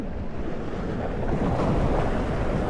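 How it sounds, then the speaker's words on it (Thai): Strong waves surge onto the beach at Hat Nang Ram in Sattahip, Chonburi, on a stormy day, a loud, continuous rumbling roar of surf mixed with heavy wind buffeting the microphone. "เหมือนจะมีพายุมันเลยมีคลื่นแรงๆอย่างนี้"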